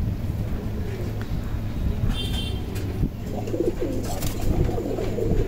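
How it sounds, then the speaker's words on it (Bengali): Three black spangle pigeons cooing close by, low soft coos repeating under steady wind noise and background hum, with a brief higher chirp in the middle. "3টা কবুতরই কালো স্প্যাঞ্জেল।"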